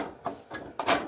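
Metal wrenches clink and a ratchet clicks in a few quick, close bursts while tools are picked out for work on a 1966 C10 pickup's transmission shifter.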